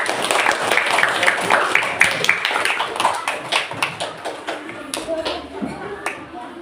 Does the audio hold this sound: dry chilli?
no